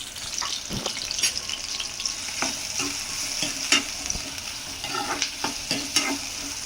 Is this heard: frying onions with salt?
yes